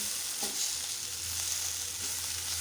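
Fried ingredients for tikha macaroni being stirred in a pan make a soft continuous sizzle, with a few spoon scrapes and stirring sounds close by and no one talking.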